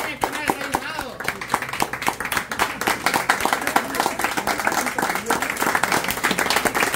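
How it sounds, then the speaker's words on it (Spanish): A gathering of people gives thin, half-hearted applause, with scattered uneven claps continuing for several seconds while voices talk over it. "¡Qué flojo ese aplauso,"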